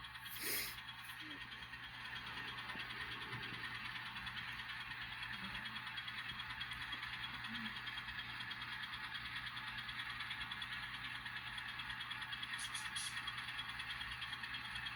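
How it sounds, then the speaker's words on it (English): An N scale Atlas Gold Series Alco S-4 model diesel switcher locomotive idles steadily throughout, a constant mechanical drone with faint chirping, ratchet-like clicks over a low rumble. "Engine sounds like it's kind of chirping or whatever"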